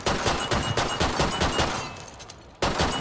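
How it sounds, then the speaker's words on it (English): Rapid gunfire from Killing Floor 2 as shots hit a light: a dense, loud, rhythmic string of shots that pauses briefly, then starts up again. "if we go into the game and we shoot the light, nothing's going to happen"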